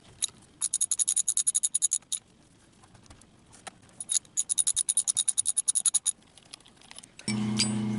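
Rapid bursts of high, buzzing ratchet-like clicks in two runs as T30 hex screws are backed out of a windshield wiper motor, close and alone, ending with a louder steady mechanical whir.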